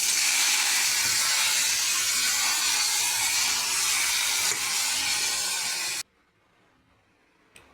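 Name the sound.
pumpkin leaves added to hot oil with fried garlic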